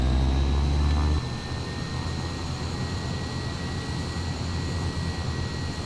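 Aircraft engine noise from a Fairey Gannet AS1 in Flight Simulator X, a steady loud drone with a strong low rumble and faint high whine that drops in level after the first second and then holds evenly.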